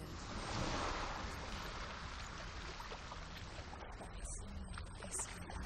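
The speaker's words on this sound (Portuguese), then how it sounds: "Olha as ondas chegando, que legal." Waves roll onto a beach in Hellblade: Senua's Sacrifice on PS4. A faint, continuous surf wash sits under soft wind-like noise, with a few light splashing textures toward the end.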